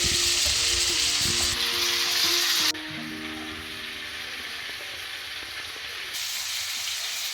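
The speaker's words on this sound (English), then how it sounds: "Our sausages are pan frying." Sausages pan frying for a Flemish hutsepot meal, a loud continuous sizzle and crackle close by, with a lower steady tone and occasional shifts in intensity, no talking.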